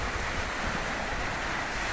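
Strong waves and gusting wind out on the open sea, a steady, loud, unbroken roar of surf and wind buffeting the microphone, with no voices.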